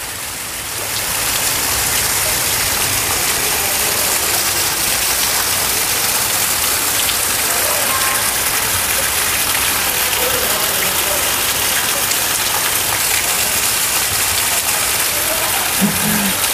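Steady, dense rain pouring down outdoors, with hibiscus plants and a dried-out pond nearby, a loud continuous wash of drops on surfaces that builds in the first second and holds evenly throughout.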